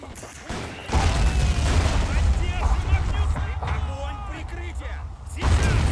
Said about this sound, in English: Oh, there's that artillery